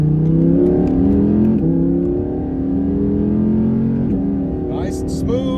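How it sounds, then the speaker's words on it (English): An Audi R8 with a naturally aspirated V10 revs loudly from behind the cabin, its tone climbing and falling through gear changes, with a brief high squeal near the end; someone talks over it. "You can really hear that V10 back there revving out."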